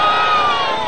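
Close by, an audience at a male modeling show on a 1999 television program cheers and shouts loudly, a brief, dense burst of voices.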